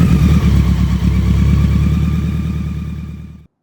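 BMW K100 motorcycle engine idling close by with a steady, even throb, loud and unbroken, then cutting off abruptly near the end.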